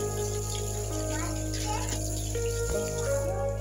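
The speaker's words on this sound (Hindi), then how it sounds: "मछली को फ्रेश से धो लेंगे।" Fresh fish being washed in water: a steady running-water gush with splashing and handling noises, close and fairly loud, with a faint voice in the background.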